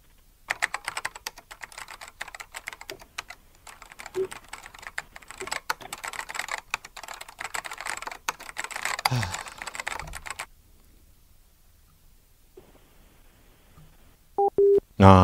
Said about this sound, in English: He finally got bored with listening to me typing.